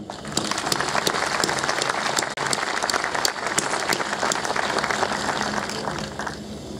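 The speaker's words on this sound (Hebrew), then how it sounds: "ואני מוחא לכם כפיים" A large audience gives sustained, loud applause, dense steady clapping that carries on without a break and with no speech over it.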